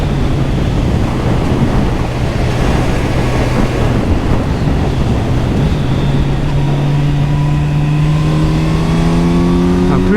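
A 2023 Kawasaki Z900 four-cylinder motorcycle pulls away under steady throttle, its engine note climbing smoothly through the revs beneath heavy, continuous wind roar on the microphone.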